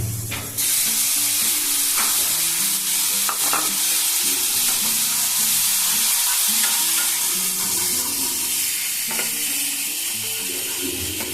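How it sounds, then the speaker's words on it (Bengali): Ground spice paste of ginger, cumin and green chili with coriander powder and turmeric frying over medium flame, a loud continuous sizzle close by, with repeated scraping and knocking of a spoon stirring in the pan. "এই মশলাটাকে মিডিয়াম ফ্লেমে এক মিনিট মতন ভেজে নেবেন"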